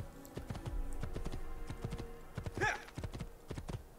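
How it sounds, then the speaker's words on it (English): Horse hooves clip-clop at a quick, regular gait in the video game Assassin's Creed II while riding up a mountainside, with a short snort or whinny midway, clear and near. "I like the fact I can ride my horse all the way up here."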